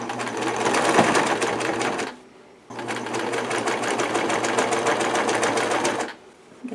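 A sewing machine stitches a fluffy throw pillow with no zip, running loud and close in two long sustained bursts broken by a short pause.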